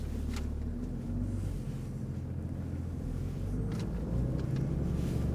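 Toyota Land Cruiser, a short-wheelbase heavy-duty model, rolling down a road with a steady low engine and drivetrain drone, tyre roar and some wind buffeting at the microphone, continuous throughout.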